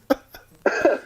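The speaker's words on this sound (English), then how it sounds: "That was a cough because I'm sick" A sick man coughs: a short single hack, a brief pause, then a heavier, longer cough, close and dry with no talking around it.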